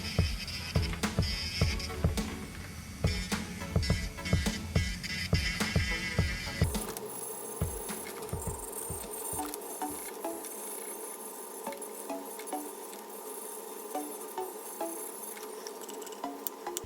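Electric nail drill at low speed removing dead skin from the nail plate during a polygel press-on nail application, giving rapid rhythmic rasping and filing that grows quieter and steadier partway through.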